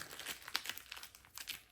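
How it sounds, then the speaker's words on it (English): Chrome vinyl car wrap, heated and then crumpled up by hand, gives close, crisp crinkling and crackling in quick irregular bursts with a few sharper snaps, and no one talks. "crumple it up."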